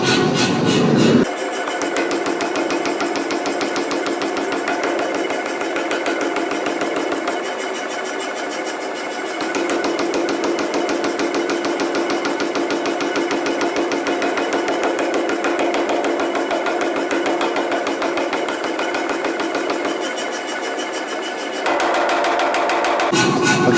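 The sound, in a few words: power hammer forging copper ladle handle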